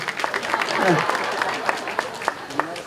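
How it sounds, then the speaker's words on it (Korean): Audience clapping at a groundbreaking ceremony for a food robot and food tech research center, moderate and sustained with sharp individual claps, while a voice speaks briefly over it. "박수 보내주십시오"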